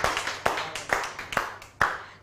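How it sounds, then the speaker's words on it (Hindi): Audience clapping at a weekend stage show, a short burst of loose, uneven claps with a few sharper slaps standing out, fairly close and with no voices over them. "थैंक यू सो मच, भरपूर तालियाँ होनी चाहिए इनके लिए"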